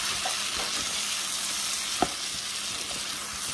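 Shrimp, sausage and potatoes sizzle steadily in a pan, seasoned with Scotch bonnet pepper, while a utensil stirs and scrapes, including one sharper clack, close up and without talk.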